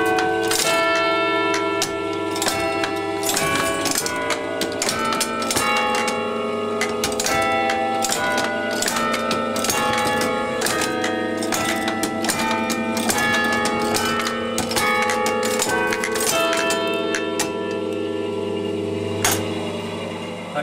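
Steady bells ring out in overlapping melodic peals in Witney, UK, with sustained tones and repeated strikes layering into a rich, continuous carillon tune throughout.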